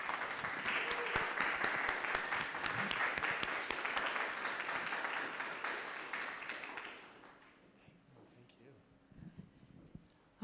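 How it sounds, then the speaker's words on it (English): Audience applause at a campaign event for a US Senate candidate, a steady wash of clapping with a few voices mixed in. It holds for about seven seconds, then fades to a quiet room before a voice returns. "everyone, a big round of applause for Christy"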